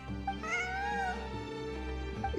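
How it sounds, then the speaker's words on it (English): A cat in the Genshin Impact video game gives a drawn-out, rising and falling meow over a steady background music bed, clear and close with no talk. "I'm not hearing things. It really is a cat."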